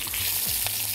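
Garlic frying in a pan, a brief continuous hissing sizzle heard up close with no talk.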